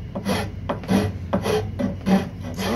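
A hand rasp shapes a wooden dragon walking stick in steady back-and-forth strokes, about five rough scraping passes, close and loud with no talking.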